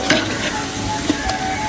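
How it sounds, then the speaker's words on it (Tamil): Masala with garam masala stirred and sautéed in a pan, a close sizzle broken by a few sharp scraping stir strokes across the short stretch. "போட்டு மசாலா எல்லாத்தையும் நல்லா வதக்கணும்."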